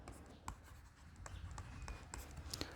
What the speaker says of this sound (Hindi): मैं आपके लिए लिख देता हूँ सारी चीज़ें